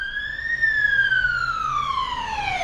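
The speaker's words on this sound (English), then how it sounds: "Another ambulance." Ambulance siren wailing loud and near, its pitch rising and then sliding steadily downward as the vehicle passes, over low traffic rumble.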